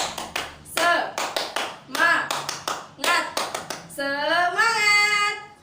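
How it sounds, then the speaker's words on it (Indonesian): A grade 5 class claps out a rhythmic 'tepuk semangat' routine in quick bursts of sharp, loud claps. The children chant along in unison and end on a sustained shouted cheer. "kita tepuk semangat dulu ya"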